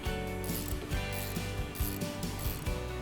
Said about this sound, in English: So now we've taken the bolts out